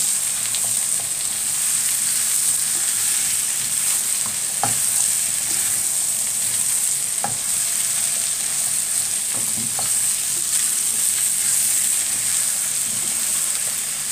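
Two large julienned onions sauté in a pan with a loud, steady hiss, broken by occasional faint scrapes and clicks of stirring.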